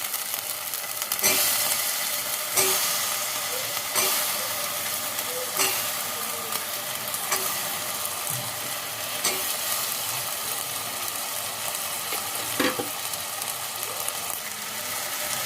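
Potatoes frying in a pan for a paneer, potato and pea gravy, a continuous close hiss of sizzling oil with occasional light stirring knocks.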